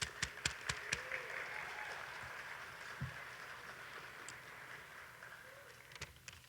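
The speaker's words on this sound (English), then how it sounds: "one more round of applause for these guys" Applause from a sports band audience in a room at a stadium event, with a few sharp claps at the start, then a steady, fairly faint patter of clapping throughout.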